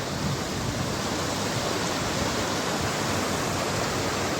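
Loud, constant rushing water of the Şeytan Deresi mountain stream near Erzurum fills the air with a steady broadband roar, close and unbroken, with no voices.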